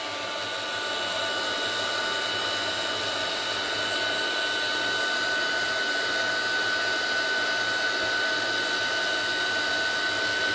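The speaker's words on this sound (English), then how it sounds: "So the heat tool just melts the embossing powder." Steady, loud whirring blast of a handheld heat tool running continuously while it melts black embossing powder on a handmade Christmas card, with a constant fan tone and no talking.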